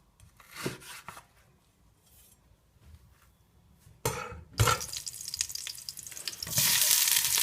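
Onions dropped into hot oil over high heat, starting with faint clinks and quiet pan noise, then bursting into loud, hissing sizzle that builds and stays bright toward the end.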